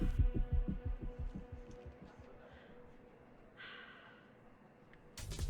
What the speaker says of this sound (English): Hear her breathing.